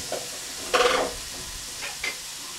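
Fish pieces for doi katla going into hot oil over fried spices, a soft sizzle with a couple of brief stirring scrapes and one louder burst, close and free of talk.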